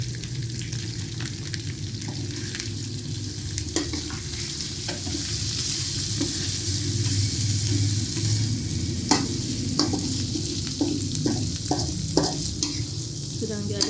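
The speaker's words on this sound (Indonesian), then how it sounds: "Sedang diaduk lagi supaya garamnya tercampur rata" Sambal ati ampela being stirred in a frying pan, oil sizzling steadily beneath repeated scraping and clacking strokes of the utensil, close and fairly quiet, growing busier toward the end.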